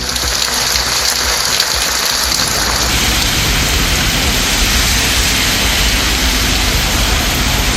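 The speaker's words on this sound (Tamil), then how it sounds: "சென்னை மற்றும் அதன் புறநகர் பகுதிகளில் கனமழை." Heavy rain in Chennai falling in a dense, loud, steady hiss of drops and water, continuous throughout with no voices.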